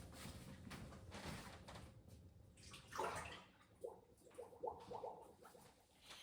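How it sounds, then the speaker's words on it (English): Liquid from a bowl is poured down a kitchen sink drain while homemade yogurt is made, a quiet splashing pour followed by softer gurgles and a few light clinks. "we're going to pour this down the drain"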